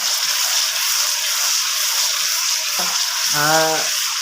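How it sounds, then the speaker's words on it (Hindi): Garlic ginger paste frying with masala in a pan for dhaba-style daal mash, a steady close sizzle throughout with a couple of brief stirring scrapes near the end. "ये देखें, जो है लहसुन अदरक का पेस्ट जो है मैं इसको गोल्डन कर रहा हूँ।"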